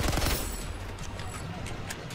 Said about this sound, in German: Er trifft mit dem ersten Schuss!